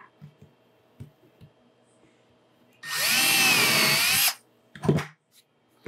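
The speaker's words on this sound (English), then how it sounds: "So we've drilled a pilot hole." Power drill boring a pilot hole for a wood screw, one loud whining burst of about a second and a half, close, with light clicks and handling knocks before and after.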